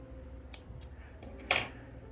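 Scissors snipping yarn during crochet work, two or three quick light snips with a slightly louder final cut, close and alone.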